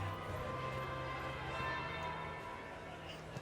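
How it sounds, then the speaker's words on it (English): A church bell tolls in the fantasy video game Dragon Age: Inquisition, with a sustained, humming ring whose overtones linger over a low, steady game ambience. "That would be the second bell."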